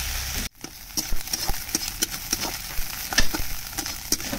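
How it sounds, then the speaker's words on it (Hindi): Prawns of mixed sizes fry in a pan, a dense crackling sizzle broken by frequent sharp clicks and pops of stirring, close and lively after a brief quiet start. "देखिए कितना मस्त फ्राई हो रहा है"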